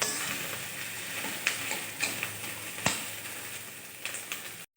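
Fish roe fries in oil in a pan with a steady, soft sizzle and occasional light clicks of stirring, close and with no talk.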